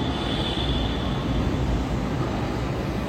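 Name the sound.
Kolkata metro train arriving at station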